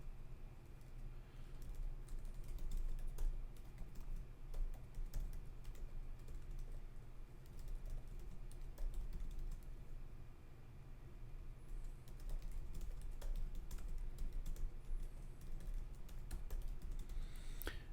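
Rapid, continuous clicking of a computer keyboard being typed on, fairly faint over a low background hum, with irregular bursts of keystrokes throughout.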